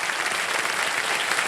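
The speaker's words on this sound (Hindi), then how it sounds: "तालियां बज जाए इनके लिए" An audience bursts into dense, continuous clapping in a TV quiz show studio during an episode of Kaun Banega Crorepati. The applause stays loud and even throughout, with no speech over it.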